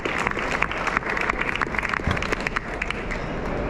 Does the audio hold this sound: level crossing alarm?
no